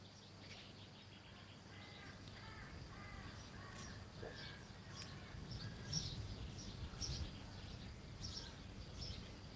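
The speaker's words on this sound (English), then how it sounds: "I bet it's a crow. I bet I hear a crow." A crow caws outdoors, its repeated calls faint and somewhat distant over a steady background hum, with other birds chirping softly.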